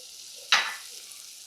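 Flour stirred into melted butter in a pan for a white roux for baked mac and cheese makes a quiet, low simmer broken by two brief, louder scraping stir strokes.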